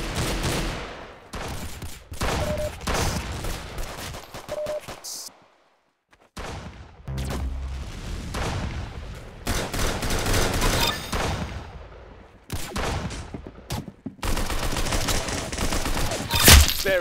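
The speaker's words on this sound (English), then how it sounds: "Very good shooting." Rapid gunfire bursts from the Roblox shooter Arsenal, played on mobile, crackle in dense volleys separated by brief pauses, loud and close throughout.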